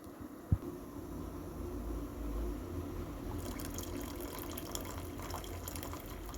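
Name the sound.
pouring jaggery syrup through strainer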